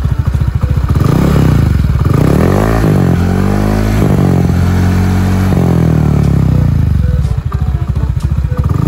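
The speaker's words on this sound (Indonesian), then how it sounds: "kurang lebih untuk suara knalpotnya seperti itu" A 2021 Honda Scoopy scooter with a racing exhaust revs loudly and close up, its engine note rising and falling in rough, crackling sweeps that run continuously with no voice over them.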